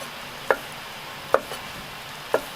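Liver being thinly sliced with a knife on a board, three distinct, separate chopping taps spaced roughly a second apart, close and clear over faint background noise.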